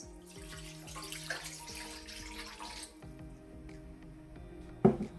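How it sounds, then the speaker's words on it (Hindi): Water pours and splashes into a metal cooking pot for plum sherbet, a continuous running trickle with a sharp clank near the end. "उसमें ये पानी डाल दूंगी मैं"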